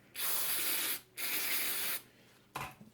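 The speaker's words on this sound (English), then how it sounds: "So what I'll do is I'll spray it with like another cleaner." Cleaner sprayed onto an MGN linear rail carriage comes in two long, steady hissing bursts and then a short final spritz, close and clear.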